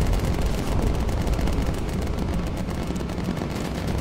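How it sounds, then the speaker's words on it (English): Bomber turret machine guns in Bomber Crew hammer away in a steady, dense stream of rapid fire, loud and continuous over engine drone, never pausing across the stretch. "Please shoot stuff down."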